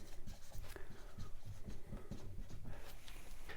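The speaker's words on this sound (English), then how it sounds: "So I'm just going to write find the equation" Marker or chalk writing on a board during a maths lesson, a steady series of close scratchy strokes and taps with no speech.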